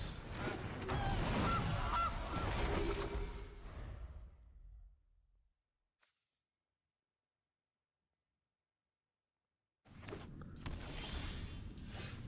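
Goose honks from an MTG Arena card effect come loud and dense for about four seconds, fade to silence, then a fresh burst of honking resumes near the end.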